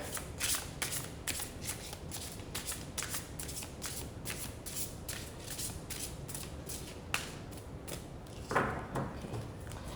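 A deck of playing cards being shuffled again and again, close and fairly quiet, with crisp riffling bursts in a steady rhythm and a slightly louder flurry near the end.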